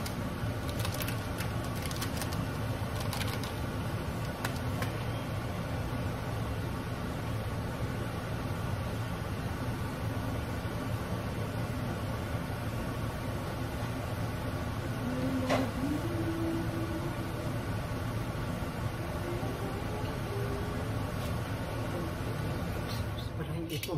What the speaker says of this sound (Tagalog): Maingay po yung ating exhaust.